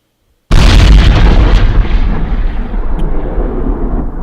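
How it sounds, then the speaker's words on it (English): A video game bomb from a bomb pickup detonates with one sudden loud boom after a brief silence, then a long rumbling roar that slowly fades yet stays strong to the end. "This is when you get the bomb pickups and you drop the bomb and it explodes."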